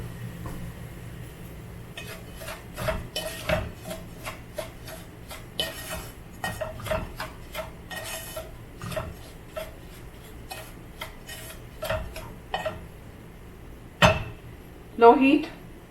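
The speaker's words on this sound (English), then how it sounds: "Stirring it continuously." A spoon stirs semolina pudding in a pan over low heat with raisins, giving a steady run of scraping knocks and clinks against the metal, close and fairly loud, with a sharper clatter near the end.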